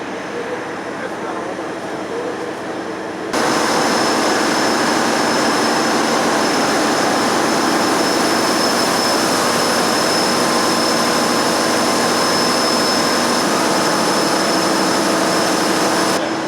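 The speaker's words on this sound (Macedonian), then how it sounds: "На земјен газ, така. Ова е генератор." At a biogas power plant, a natural gas generator cuts in with a loud, steady, broadband roar that holds unbroken and close after a quieter hum of machinery.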